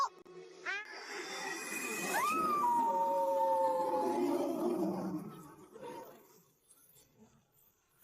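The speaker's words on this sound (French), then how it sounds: "Le petit chien est en colère." An angry little animated creature gives a snarling, cat-like caterwaul that rises into a long wavering growl, fairly loud and close, then fades.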